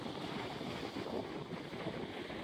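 Steady broadband wash of ocean waves and wind at the stone breakwater of Molhes, Imbé, RS, where cast-net fishermen work; a continuous, fairly faint surf roar with no distinct voices.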